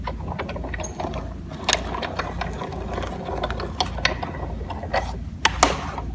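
Sizzix Big Shot Plus die-cutting machine cranked by hand to cut fabric through a die, a steady close ratcheting, clicking grind with occasional louder clicks, no talking.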